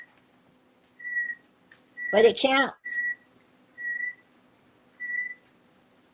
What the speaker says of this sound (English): the little whistling you hear is his bird